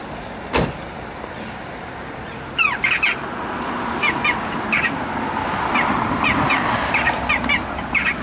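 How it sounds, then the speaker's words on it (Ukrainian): Crows squawk repeatedly outdoors beside a street, loud harsh calls in irregular bursts over the steady hum of passing road traffic, with a sharp thud near the start. "Даже ворони хотят, чтобы уехали."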